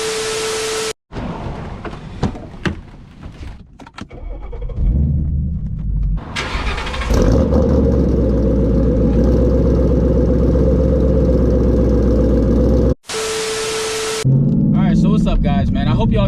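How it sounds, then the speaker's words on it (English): A Ford Mustang's engine rumbles loudly from inside the car while driving in the rain, starting up after a short gap and holding a steady growl, with talk over it. "My car's a little loud and it's raining outside"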